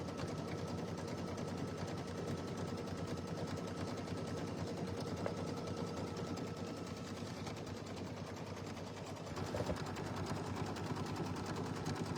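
An embroidery machine stitching out a design gives a steady, continuous mechanical whirr with fine rapid ticking, faint and unbroken throughout.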